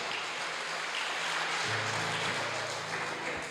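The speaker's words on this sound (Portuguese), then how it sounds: "Se for para aplaudir, aplauda com força." A church congregation applauds during a sermon, steady dense clapping like rain filling the room for several seconds, with sustained organ or keyboard notes underneath.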